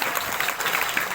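A steady wash of applause from children and an audience at a lively community event, dense and continuous throughout.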